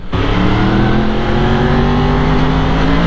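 A Yamaha MT10 motorcycle engine runs hard with a loud, sustained, close roar that starts abruptly and holds steady throughout, with no voices.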